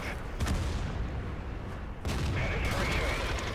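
Tank cannon fire in World of Tanks from a Caernarvon, heavy booming shots and impacts ringing out over a low mechanical engine rumble, with someone talking throughout.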